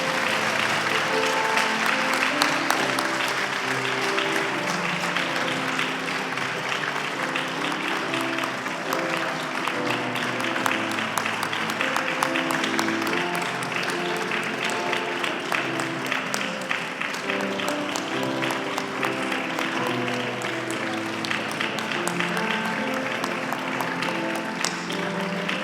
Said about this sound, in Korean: 우리 큰 박수를 보내드리도록 하겠습니다.